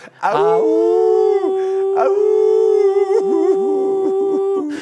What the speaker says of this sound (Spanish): Parece un coro, pero en realidad son perros llorando de dolor, Pepe.